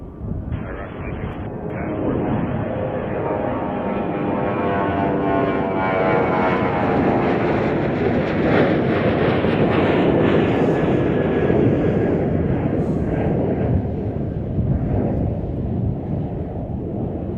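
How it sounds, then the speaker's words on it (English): A United Boeing 737-900ER departs Chicago O'Hare bound for Fort Myers, its jet roar loud and sustained throughout with rising whining tones, while a voice talks faintly underneath. "That was United Flight 2737 off to Fort Myers, Florida on a 737-900 ER."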